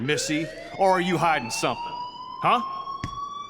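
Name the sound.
school fire alarm ringing in video game Life is Strange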